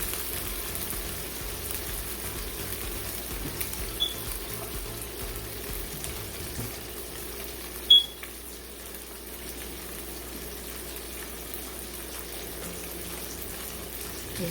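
A thin cod fillet pan-searing in a hot pan gives a faint, steady sizzle and crackle, with a single small clatter partway through.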